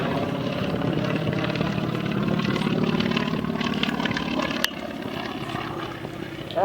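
A CAC Wirraway warbird, a single-engine propeller trainer, drones past low and slow at an air race, its steady engine and prop hum filling the whole stretch before easing off slightly near the end.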